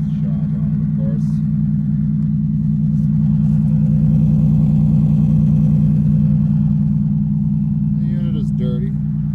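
A 1988 fuel-injected Oldsmobile Cutlass Ciera idles with a shot muffler, giving a loud, steady low exhaust drone close by, with a voice talking over it at moments.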